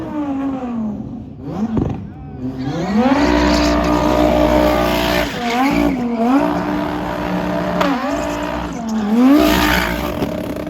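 A pearlescent purple Lamborghini does a reverse burnout, its engine revving loud and close in rising and falling surges over tire squeal, while an excited voice shouts over the noise.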